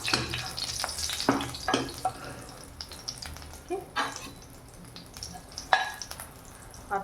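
Cumin seeds and chilli splutter in hot oil over low gas for a tempering, a steady close crackle with scattered sharp pops and a few louder bursts.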